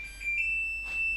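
A kitchen timer goes off while fish cooks, a thin high electronic beep tone sounding continuously and fairly quietly over a low hum, with no voices.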